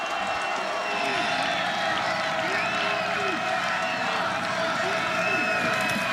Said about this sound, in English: they are cheering their defense on to get a stop on 3rd and 5